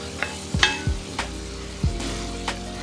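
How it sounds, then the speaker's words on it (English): Beef searing in a hot pan while being flipped for red chili, with a steady background sizzle and several soft clanks and scrapes as pieces are turned, close and moderately loud, no talk. "All we want to do is now is just turn the beef to sear the backside of it."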